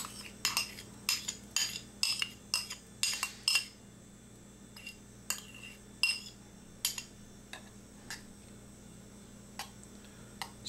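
A cooked oat mixture is spooned from a hot bowl into another bowl. A quick run of metal spoon clinks and scrapes against the bowl is followed by sparser taps in a quiet kitchen.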